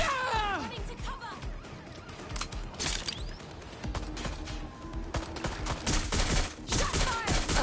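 Gunfire in the Watch Dogs Legion video game: repeated shots and bursts crackle throughout, mixed with game effects and loud, busy action sounds, while voices shout over the fighting.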